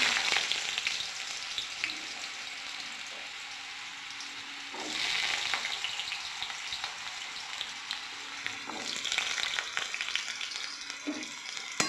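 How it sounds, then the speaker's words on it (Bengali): Potato pieces fry in a pan with five-spice seeds, a steady close sizzle broken by occasional stirring scrapes, moderately loud with no talk. "আলুটা একটু ভাজা করে নেব"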